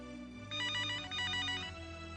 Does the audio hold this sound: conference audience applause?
no